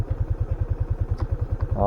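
A trail motorcycle engine idles close by with a steady, even thumping pulse, about nine beats per second, and a voice cuts in briefly at the very end.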